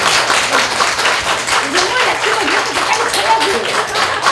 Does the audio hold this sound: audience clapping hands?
yes